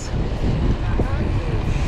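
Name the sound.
strong wind by the Obhur waterfront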